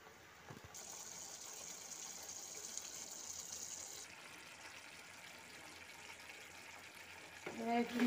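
Paneer masala gravy with added water comes to a boil in a pan on a gas stove, giving a steady soft bubbling hiss throughout and a brief clatter near the end.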